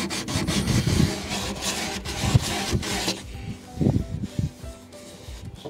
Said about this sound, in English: Now I'm just sanding the inside